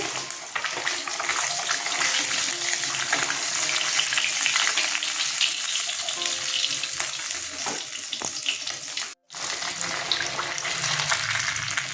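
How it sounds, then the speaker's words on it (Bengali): Katla fish pieces frying in hot oil, a continuous dense close sizzle and crackle with occasional light clinks, cut by one brief silent gap near the end. "সব মাছ ভাজা হয়ে গেছে উঠিয়ে নিলাম"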